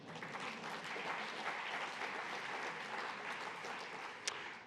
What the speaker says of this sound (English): If you clap very loudly, he will hear you in Washington